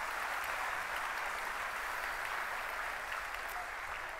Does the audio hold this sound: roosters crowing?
no